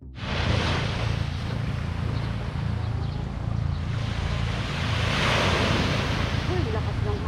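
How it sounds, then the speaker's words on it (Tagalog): Strong ocean waves crash continuously on the shore, a loud, unbroken roar of surf mixed with heavy wind buffeting the microphone. "lakas ng hampas ng alon"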